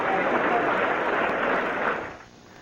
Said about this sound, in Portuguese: sob uma salva de palmas.